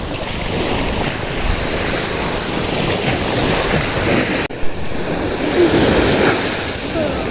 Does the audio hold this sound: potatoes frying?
no